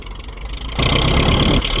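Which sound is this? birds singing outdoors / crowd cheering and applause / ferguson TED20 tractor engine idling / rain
ferguson TED20 tractor engine idling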